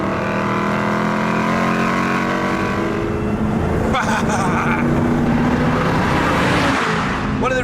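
A V8 car engine revs loudly through its exhaust, rising and falling in pitch with a couple of sharp blips and gear changes, close and dominant throughout.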